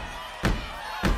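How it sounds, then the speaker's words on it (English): Two heavy group stomps of children's feet on the floor at an older kids' gathering, spaced about half a second apart, each a short thudding impact over quiet room ambience. "Can you guys stomp your feet like that?"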